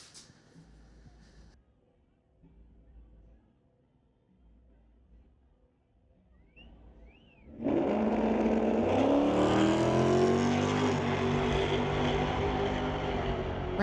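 A twin-turbo 2019 Mustang makes a drag racing pass at a strip, quiet idling and a brief squeal before the engine erupts into a loud, sustained roar that holds to the end.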